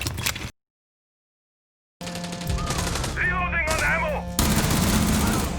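Soft, muffled gunshots from a suppressed pistol in Rainbow Six Siege in rapid succession over game background noise, with electronic tones, after a brief silent gap.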